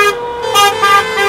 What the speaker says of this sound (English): Honk for another reason